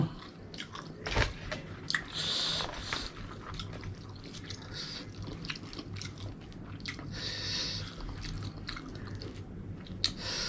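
Close, crisp bites and chewing of food, likely spicy Thai-Lao eggplant dip, repeat in an irregular rhythm with moist crunches and squishes, fairly quiet and without talk.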